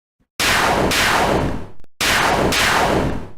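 Two loud, sharp slashing whooshes in quick succession from the video game Deltarune, each a bright burst that trails off, separated by a brief gap.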